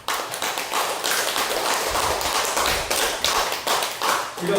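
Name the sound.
audience applause at a church talk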